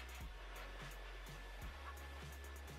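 A dog grooming dryer blows with a steady, loud, continuous whoosh, close up, while a small feisty pug is dried, with faint thumps and shifts under the constant airflow.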